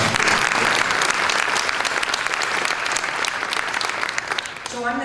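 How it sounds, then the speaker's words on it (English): A conference audience claps for a panel on gender equity in jails, a full burst of loud, dense applause that gradually thins toward the end as a voice begins to speak. "Let's give that a round of applause."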